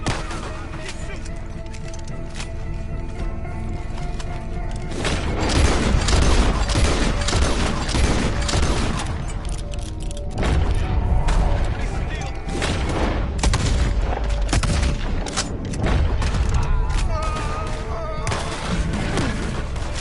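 Gunfire in a Red Dead Redemption 2 shootout: rapid bursts of shots and booming blasts come dense and loud, nearly continuous, with brief lulls, under game music and shouting voices.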